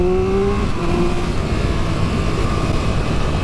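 A Triumph Speed Triple RR motorcycle engine, a loud steady drone with a rising tone in the first half second that then settles into a sustained, even roar.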